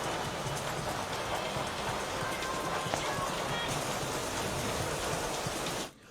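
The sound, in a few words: heavy rain, water on roads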